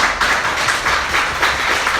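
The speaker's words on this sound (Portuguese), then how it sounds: "Vamos dar uma salva de palmas ao Senhor Jesus?" A church congregation clapping together in a steady, dense wash of applause, loud and close with no talk over it.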